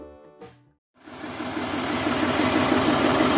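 A narrow-gauge toy train locomotive, engine number 895, idles near a road crossing in Changa Manga forest, its steady mid-pitched diesel rumble rising and holding after a brief gap, near and fairly loud.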